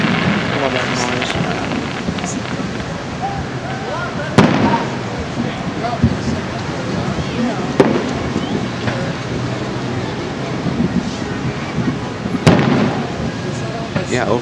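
Fireworks show at Mission Beach in the early 2000s: scattered distant booms and crackling pops, with louder bursts near 4.4 and 12.5 seconds, over a continuous crowd murmur and occasional nearby voices.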